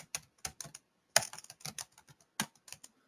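Quick bursts of keystrokes on a computer keyboard, close and crisp, with short pauses between clusters of taps over about three seconds and no talking.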